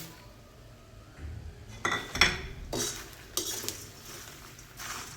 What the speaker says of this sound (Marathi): हे सगळं आपण आता मस्त असं भाजून घ्यायचं आहे.